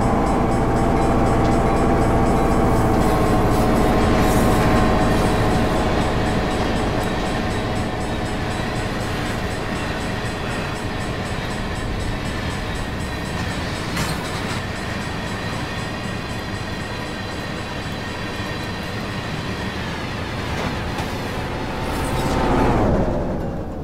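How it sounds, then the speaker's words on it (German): A freight train rolls past in Train Simulator on a US line, a loud continuous rumble with steady wheel noise that holds for about twenty seconds and swells briefly near the end, with no talking. "Und lassen den Zug einmal vorbeifahren."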